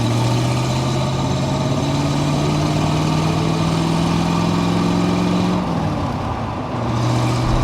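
A 1965 Corvette's 327 Turbofire V8 idles steadily up close, a deep continuous rumble with a slight dip in pitch near the end.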